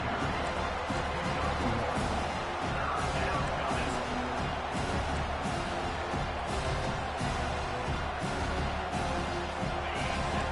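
A home crowd at a football game on third down, a constant roar of cheering and crowd noise with scattered thumps, heard from within the stands.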